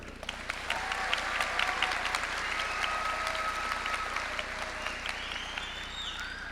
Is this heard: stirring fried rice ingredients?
no